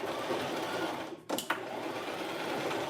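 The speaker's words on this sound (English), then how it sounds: "I went ahead and purchased a brand new sewing machine, which I am using right now" A brand-new sewing machine stitches steadily in a continuous whirring run, with a brief pause and restart partway through, close and alone with no talk.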